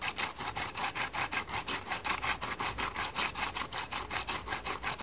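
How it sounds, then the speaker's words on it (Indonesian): Rhythmic back-and-forth scraping of sandpaper smoothing an edge while modifying an LED flashlight, about five strokes per second, close and steady with no talking. "Dan menggunakan kertas amplas saya ratakan tepinya."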